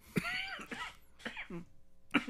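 Several short, muffled coughs and throat clearings come in quick bursts, close and soft, as if someone is trying to hold them back.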